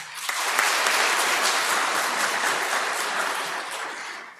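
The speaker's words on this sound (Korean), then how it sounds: "우리 공동체가 한번 해보겠다는 의미로 큰 박수 한번 더 드릴게요" Church congregation claps together in sustained applause during a Sunday Mass, a dense steady patter of many hands that swells and then gradually fades.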